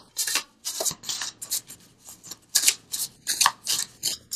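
An oracle card deck, the visionary cards, being shuffled by hand: close, crisp riffling bursts repeating in a quick, uneven rhythm.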